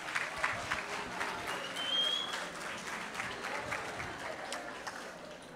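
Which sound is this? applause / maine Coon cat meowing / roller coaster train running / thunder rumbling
applause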